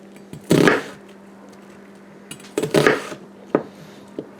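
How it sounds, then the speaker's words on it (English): A knife rough-chops onions on a cutting board, giving a few separate thuddy chopping bursts with pauses between, close and moderately loud, with no talking. "I'm just going to do a rough chop on these."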